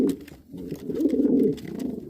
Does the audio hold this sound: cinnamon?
no